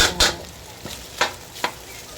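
Canned luncheon meat frying in a pan, a continuous close sizzle with three or four sharp stirring scrapes spaced out across it.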